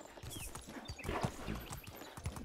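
Donkey hooves clip-clop in a steady walking rhythm while riding in Medieval Dynasty, set against a busy, noisy background with no speech.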